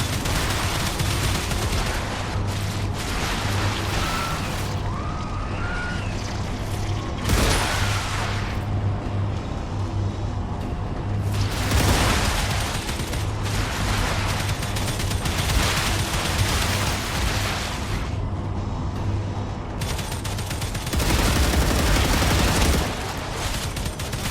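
Defensive gun turrets fire in bursts throughout, a steady mid-distance rattle of gunfire with heavier booming volleys every few seconds, in the sci-fi base-building game StarRupture.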